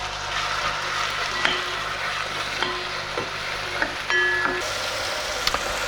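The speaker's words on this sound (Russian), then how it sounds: "Обжариваем 5 минут." Chopped vegetables for a Tuscan bean soup fry in a pan with a steady, close sizzle, broken by a few sharp clicks and scrapes of stirring.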